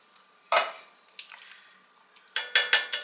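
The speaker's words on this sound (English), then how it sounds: "Give that a good stir." Chili beans and canned tomatoes stirred in a cooking pot, giving scraping, clinking spoon strokes against the metal, a loud scrape early on and a quick burst of stirring near the end, with no talking.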